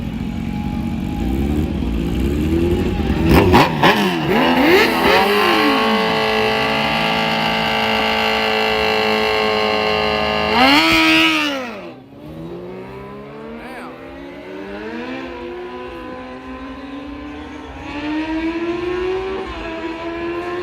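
A Lexus SC 300 revs hard at a race track, its engine holding a loud sustained howl with sharp climbs and drops before falling away to a lower idle-like drone, with faint voices in the background.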